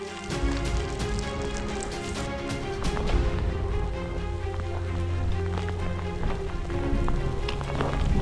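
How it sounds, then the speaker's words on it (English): Hail pelts down during a mountain hike on Zombie Peak, a dense, continuous patter of hard little hits close by, steady and loud throughout, with a faint low tone underneath and no speech. "Oh, here comes the hail."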